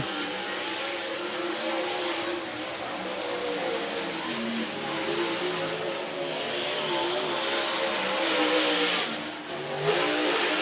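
Race cars at a drag strip during a Group B fall classic event at Whynot Motorsports Park accelerate off the line, engines revving and roaring steadily, the sound building louder toward the end with no talk over it.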